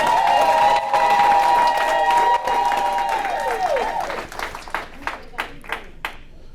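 Wedding guests applauding and cheering loudly, a dense burst of clapping with voices and ululating tones that gradually thins into a few scattered, separate claps.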